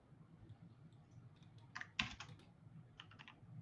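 Quiet computer keyboard typing during a live stream: a few soft, scattered keystrokes, then a short burst of clicks and a final cluster of taps over low room noise, with no voices.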